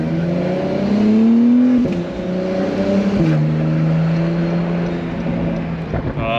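An Acura NSX engine revs up in a rising tone, drops sharply at each crisp gear shift, then climbs again, heard loud and close from inside the car on the road.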